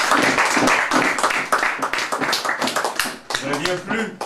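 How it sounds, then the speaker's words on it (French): Children applaud at a storytelling event, a dense run of clapping that stays steady for a few seconds, with voices mixed in underneath. "vous les enfants, je vous demanderai d'applaudir encore une fois"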